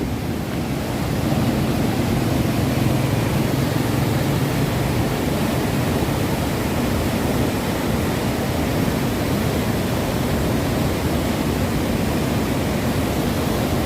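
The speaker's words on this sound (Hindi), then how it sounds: "इतनी रफ्तार से पानी है।" A loud, constant roar of fast rushing river water at the Head Marala headworks fills everything, broad and unbroken, with no voices over it.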